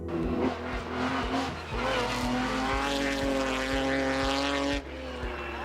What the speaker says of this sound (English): The roar of that straight six engine echoing off alpine rock faces.